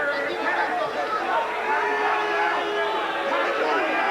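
A dense arena crowd at the 1997 Extreme Fighting 3 bout between Lober and Zinoviev keeps up a steady, restless murmur of chatter and scattered calls, filling the whole stretch without a break.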